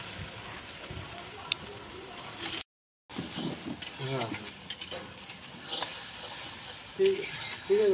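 Meat cooks in a pot over a wood fire outdoors, with an uneven sizzle, stirring clatter and occasional knocks, broken by a short gap, as voices talk in the background.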